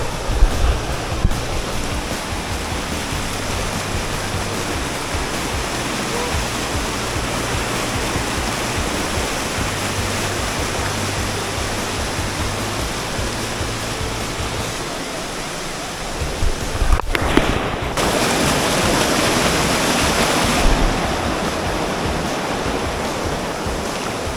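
Salad Dai waterfall in Nakhon Nayok pours into a rock pool, a steady, loud broadband roar of falling and rushing water throughout, with a brief shift in tone near the end and no voices.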